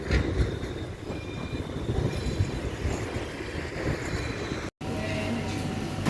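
A yellow-blue tram rolls past with a continuous rumbling roar and rattling rail noise, holding steady throughout apart from a brief dropout near the end, with no talking.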